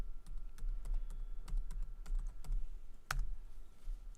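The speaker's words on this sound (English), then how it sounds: "I'm typing on a German keyboard" Steady clicking of keys typed on a German computer keyboard, a close, moderately quiet run of irregular taps with one sharper keystroke, over low background hum.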